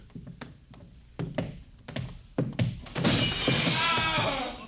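Photographic plates smashing in a 1951 radio drama: a string of sharp thuds and knocks builds into a loud, sustained crash of shattering glass that rings and scatters for nearly two seconds.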